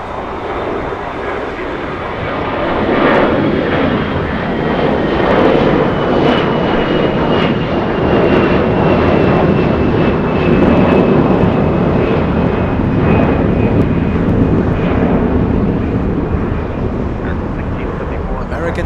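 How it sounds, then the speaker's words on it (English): CFM56 engines on a Boeing 737 Next Generation spool up at Los Angeles International Airport, a loud, sustained roar with a rising whine that holds for many seconds while someone talks over it. "CFM 56 engines powering up that 737 next generation"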